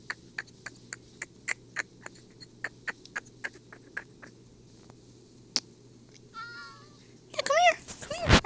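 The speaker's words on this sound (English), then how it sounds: "Man, I realize how many stray cats are in this village." Stray cats meowing in a survival video game village, a run of short, evenly spaced mews repeating over about five seconds, then a longer wavering meow and a loud, rising caterwaul at the end, with no talking.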